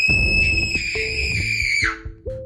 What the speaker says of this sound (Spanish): Mientras la mordía, ella gritó.